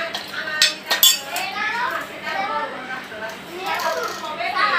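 A spoon scoops mutton biryani out of a pan, giving scattered metallic clinks and scrapes at close range, with busy room noise from a home gathering in the background.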